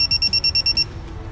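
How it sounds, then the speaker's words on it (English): A rapid series of about eight short, high-pitched electronic beeps sounds close by in quick succession from a Geotab GO9 vehicle tracking device, then stops, leaving a faint low hum. "Once all 3 LEDs turn solid and the device emits 10 quick beeps"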